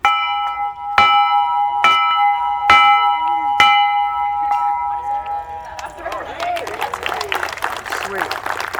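A bell rings at the Rossville dedication with five loud, evenly spaced strikes whose tones linger and ring out, followed by a crowd clapping and cheering.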